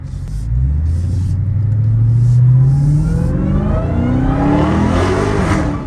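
A Dodge Hellcat Redeye's exhaust rumbles loudly up close, its deep growl climbing in pitch as the engine revs and accelerates, then holding a strong, throaty drone.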